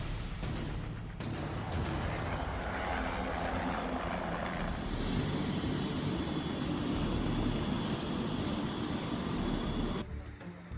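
Rescue helicopter flying over the flooded Alaknanda river in Rudraprayag after a bus crash, a steady loud rotor roar that holds throughout with sharp bursts near the start.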